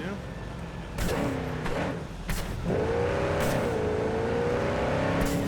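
A van engine drives in Cyberpunk 2077, humming steadily and rising in pitch as it speeds up, with a few sharp knocks early on. A person talks over it throughout.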